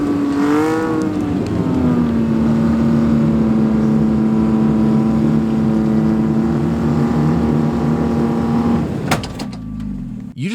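A Toyota off-road truck on tires aired down to 4.5 PSI without beadlocks crawls over an obstacle, its engine holding a steady loud drone that rises briefly at the start and cuts off with a knock near the end.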